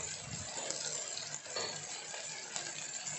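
A rice and dal mixture is stirred in a pan with a steady scraping, clinking stir over faint sizzling, close and continuous, with no talking.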